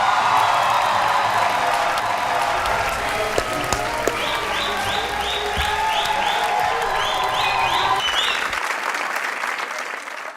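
Sustained, loud applause with some cheering from a studio audience on a Pakistani comedy talk show, steady throughout and tapering near the end.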